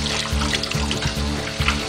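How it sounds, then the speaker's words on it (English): Hot water pours and gurgles steadily as it drains from a sink after washing a synthetic wig, with a continuous close wash of flowing sound. "So here you'll see me go ahead and let that hot water out"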